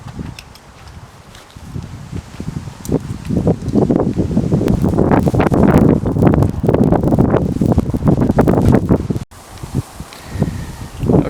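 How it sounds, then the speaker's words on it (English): Breezy wind blowing outdoors beside a hoop house covering a raised garden bed, with steady gusty rushing and buffeting on the microphone that builds through the middle and drops off briefly near the end. "it's a little breezy out here"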